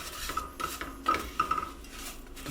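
Brown sugar and caster sugar stirred together in a pan over melted butter, a short run of soft scraping and clinking strokes close by, with no voices.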